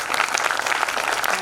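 Dense, steady applause from an audience at a final workshop session, a broad even wash of many hands clapping throughout with no voices standing out.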